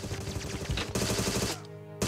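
Loud automatic gunfire from a first-person shooter video game, a fast rattling stream of shots that stops abruptly near the end, leaving a low hum before one last crack.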